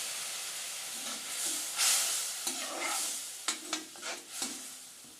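Milk cooks in a pan with roasted semolina and coconut, giving a hissing, bubbling simmer that swells midway, followed by several distinct stirring scrapes and clinks of a spoon against the pan.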